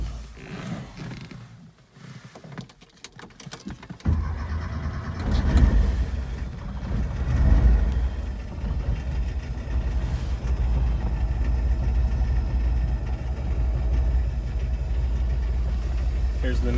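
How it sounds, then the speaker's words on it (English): A 1971 Porsche 914 engine cold-starts after about four seconds of quiet, then settles into a steady, loud, rumbling idle that runs continuously to the end, with no speech over it. "here is a cold start for the Porsche 914"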